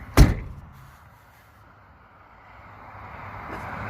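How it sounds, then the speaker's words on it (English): A door is shut with a single sharp thud near the start, then quiet room tone slowly swells afterward. "I'm going to shut the door"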